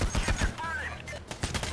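Rapid bursts of gunfire from the video game Payday the Heist, several sharp cracking shots in quick succession, loud and close, with a voice talking over part of it.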